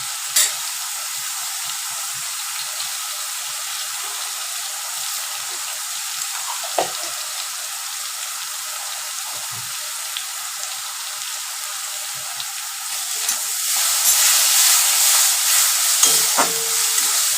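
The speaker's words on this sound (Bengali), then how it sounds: "পেঁয়াজটা একটু ট্রান্সপারেন্ট হলে ভালো করে একটু ভাজতে হবে" Onions fry in ghee as a steady, close sizzle, with a few soft stirring scrapes and a louder crackling swell near the end.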